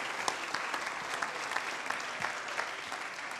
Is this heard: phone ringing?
no